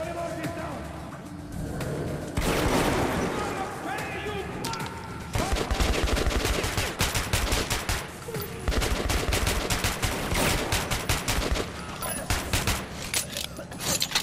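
Rapid bursts of gunfire ring out in the post-apocalyptic shooter Metro 2033 Redux, loud and close, with dense machine-gun volleys and clattering weapon mechanics over game ambience.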